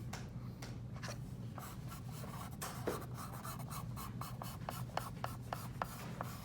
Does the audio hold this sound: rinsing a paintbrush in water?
no